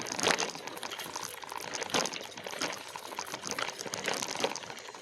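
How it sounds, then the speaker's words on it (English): A small brook flows beside a rooty woodland trail in a nature preserve, a steady close trickle and splash of water with faint crunching along the path, with no talking. "A little brook to the right-hand side of me."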